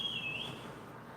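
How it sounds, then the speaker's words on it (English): Whistling drifts in through an open window, a single sustained high tone lasting about half a second before fading away, faint and alone over quiet room ambience. "Sorry if you hear whistling."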